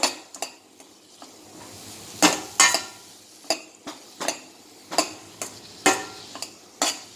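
A spoon stirs and scrapes vegetables sautéing in a pan for ragi-vegetable soup, giving a steady run of close, crisp metallic clinks and scrapes about every half second over a faint sizzle.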